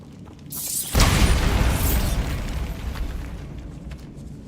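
Bombarda blasting spell from Hogwarts Legacy detonates as one loud, booming explosion that bursts in sharply and then rumbles and crackles away over a few seconds, with no talking.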